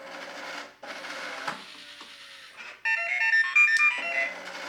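A Tomy Omnibot robot finishes homing its motors: a whirring, ratcheting mechanism runs, then a sequence of bright electronic beeps and tones plays up close.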